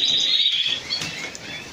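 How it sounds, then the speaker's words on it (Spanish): A pair of birds feeding their chick give thin, high chirps and tweets against a steady outdoor hiss, with a couple of brief calls standing out. "Con unos pájaros dándole de comer a una simple pareja, dándole de comer a su hijo."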